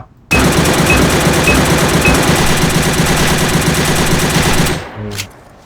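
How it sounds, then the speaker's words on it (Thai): The PMX gun in the video game A.V.A fires full-auto in one loud, unbroken burst of rapid shots lasting over four seconds, then stops abruptly, followed by a brief mechanical clack. "โอเคแรงยิง ยิงรัว"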